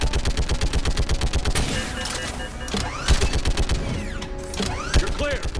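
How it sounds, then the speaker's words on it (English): Rapid bursts of machine gun fire from the Mass Effect video game rattle loudly in a fast, steady rhythm, with game effects and occasional voices mixed in. "You have to fire the machine gun."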